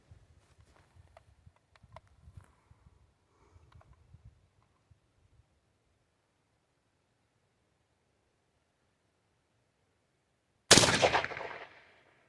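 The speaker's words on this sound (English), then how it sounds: "we're going to shoot it at that 6 inch thick piece of North American red" A gunshot fired at a 6-inch thick block of North American red granite outdoors, one sharp, loud crack with a decaying tail after several seconds of faint low rustling and soft footstep-like thumps.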